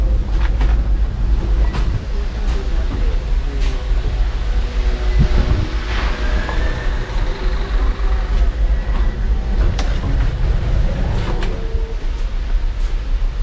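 A Sri Lankan passenger train runs on the Mannar to Colombo line with a steady loud rumble and rattle of carriages over the rails, plus sharp clacks and wind buffeting close to the microphone.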